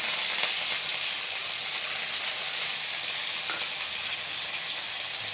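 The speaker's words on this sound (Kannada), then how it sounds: "ಚಕ್ಕೆ ಲವಂಗ ಹಾಕಿ ಚೆನ್ನಾಗಿ ಫ್ರೈ ಮಾಡ್ತೀವಿ" Cinnamon and cloves fry in hot oil in a pan, giving a steady, close, loud sizzle that runs unbroken throughout with no talking.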